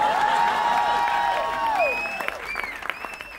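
A studio audience breaks into loud applause mixed with whoops and whistles during a comedy sketch, the clapping holding steady before thinning and fading toward the end.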